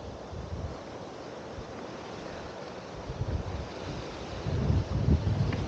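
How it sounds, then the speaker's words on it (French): Wind blows across a microphone at a seaside campsite in February, a steady low rumble with gusts that swell and buffet harder toward the end, with no voices. "avec le vent comme ça souffle"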